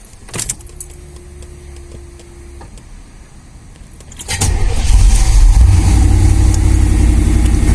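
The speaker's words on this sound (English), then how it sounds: "Let's start the engine." A Chevrolet Camaro IROC-Z sits quiet with faint clicks until its engine cranks and catches about halfway through, then settles into a loud, steady rumbling idle with slight revving, close by.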